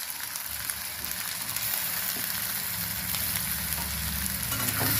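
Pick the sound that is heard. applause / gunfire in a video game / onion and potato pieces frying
onion and potato pieces frying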